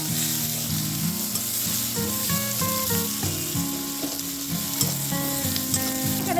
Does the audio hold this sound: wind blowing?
no